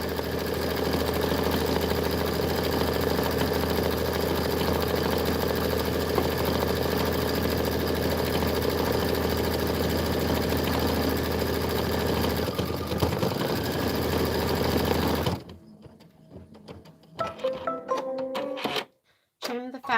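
Embroidery machine stitching a decorative hat outline for a winter penguin project, a steady close mechanical hum and rattle lasting about fifteen seconds, then stopping abruptly, followed by brief handling clatter.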